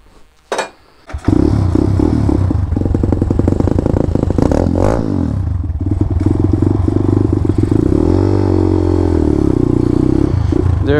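A Hellcat with an unbaffled performance exhaust pipe revs hard and close, a loud sustained raspy roar after a couple of brief blips, with rising and falling pitch and crackling overtones throughout.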